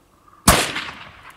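A single sharp crack from a Desert Tech SRS .308 Win sniper rifle at a long-range shoot, loud and close after near silence, with a rumbling echo that trails off over about a second.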